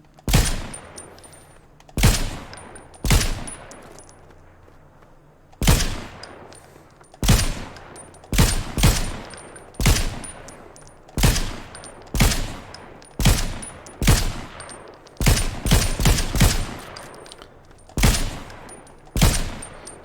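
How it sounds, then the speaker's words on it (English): Video game gunfire while shooting at a box during strafing practice: sharp, loud shots come singly and in quick bursts, with short pauses between them and no voice over them. "it's when you shoot the box, I guess."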